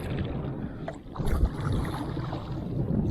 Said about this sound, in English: I paddled across